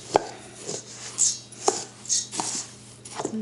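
A big spoon stirs dry muesli in a bowl, giving scraping, rustling strokes with sharper clinks against the side, close and steady, with no voices.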